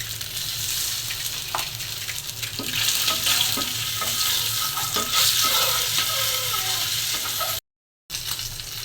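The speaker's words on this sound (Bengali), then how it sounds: "এখন ডিমটা ভেজে নেব।" Eggs fry in hot oil in a pan with turmeric and salt, giving a steady close sizzle with intermittent scrapes and taps of a spatula stirring, with no voices, and a brief gap of silence near the end.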